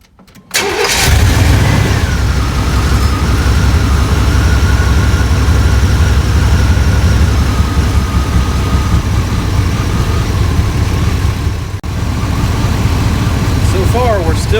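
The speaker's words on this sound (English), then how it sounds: "now all we're going to do is just crank up the car or the truck" 1989 Chevy Silverado long bed truck engine cranked briefly, catching almost at once and settling into a loud, steady idle close by, with a short dip near the end and a faint voice under the rumble.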